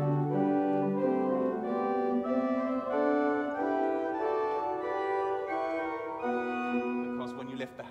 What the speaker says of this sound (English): the actual notes without the sustaining pedal might sound like this